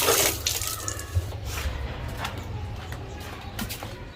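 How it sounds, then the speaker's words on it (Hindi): Water runs steadily through a pipe outdoors, a continuous close rushing and trickling sound with a few faint knocks. "ये देखें पाइप से पानी उधर जा रहा है"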